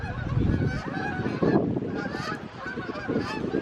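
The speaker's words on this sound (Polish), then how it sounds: "Takie klucze gęsi lecą." A flock of geese flying overhead in formation, honking repeatedly, a steady chorus of overlapping calls with no talking.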